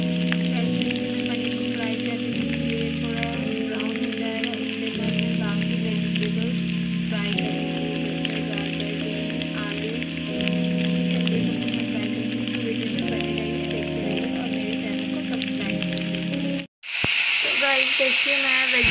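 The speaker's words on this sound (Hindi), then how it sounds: "देखिए मैं वेजिटेबल्स को भी फ्राई कर रही हूँ।" Vegetables and potatoes fry in a pan with a continuous hiss and sizzle under loud background music, and a brief cut near the end is followed by louder frying.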